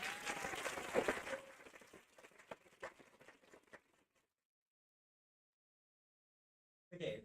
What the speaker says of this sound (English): One more round of applause for our sponsors of the event.